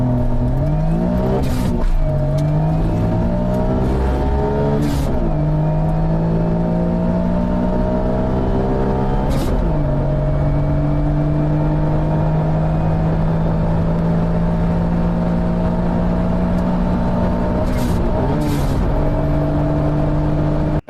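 A modified Suzuki Cara / Autozam AZ-1 kei sports car accelerates hard on a 0-60 mph run, engine note climbing repeatedly through the gears with sharp drops at each shift, loud and close throughout.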